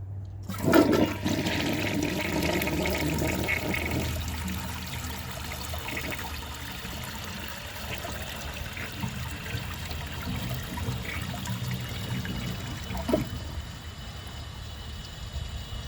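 A 1977 Kohler Highline toilet flushes during a clog test: a sudden loud rush of water, then a churning swirl and a gurgling drain that tapers into trickling refill, heard close with no talk.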